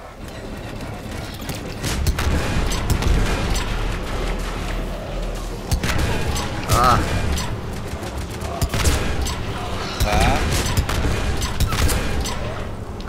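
Rapid gunfire from the video game Mass Effect 3 crackles throughout, with dense bursts of shots, booms and clanking mechanisms layered over busy combat sounds.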